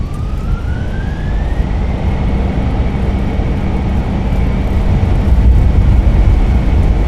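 A Fenix A320 in Microsoft Flight Simulator rolls out on landing at Boston with its thrust reversers deployed, producing a loud, sustained broadband roar that builds slightly toward the end, with a rising engine whine and no voices.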